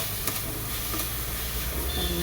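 Ivy gourd frying in coconut oil, giving a steady, close broadband sizzle with a soft hiss that runs unbroken throughout, no voices.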